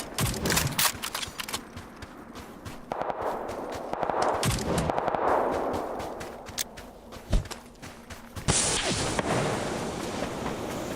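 Video game gunfire, opening with rapid bursts of loud sharp shots, then swishing movement and scattered single cracks, ending in a sustained heavy burst; no talk over it.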